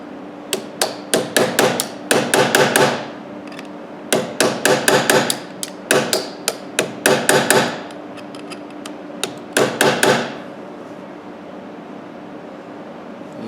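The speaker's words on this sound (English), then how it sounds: "Little short heavy hammer, flat little punch." A short, heavy hammer drives a flat punch against a motorcycle chain, ringing out in loud, sharp metallic strikes that come in quick bursts of several blows with short pauses between, close and alone.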